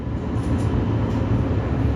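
A Sunrise Izumo sleeper train running, giving a steady, loud, dense rumble with continuous low-frequency roar and rail noise throughout, no voices.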